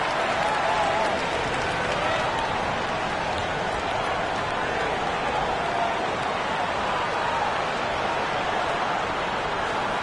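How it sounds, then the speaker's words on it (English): Crowd applause in an NBA 2K25 basketball game between the Lakers and Timberwolves: a dense, steady wash of clapping and arena crowd noise throughout, loud and even. "Round of applause."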